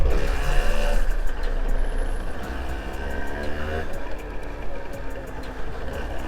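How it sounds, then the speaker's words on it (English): Road traffic passes continuously around a rider on a Yamaha Mate 50 two-stroke motorcycle, with engines droning and a vehicle swelling and fading over steady, loud broadband road noise. A voice speaks faintly underneath. "plenty of traffic today"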